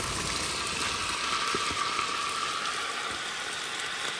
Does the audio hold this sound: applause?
no